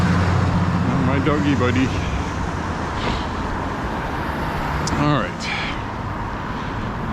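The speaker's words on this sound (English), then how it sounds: "I'm going to try to get away from the traffic because I realize it is noisy" Road traffic on a street in Lewiston, Maine, a continuous rumbling wash of passing cars and engines, with someone talking to a dog over it.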